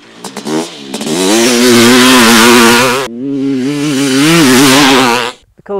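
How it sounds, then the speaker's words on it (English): A two-stroke 500cc motorcycle, a YZ/CR500, revs hard and close while being ridden at a track, its loud, raspy engine note climbing through two long pulls with a short break between them and no talk. "The coolest thing about this bike is that it's got this 500 engine in it"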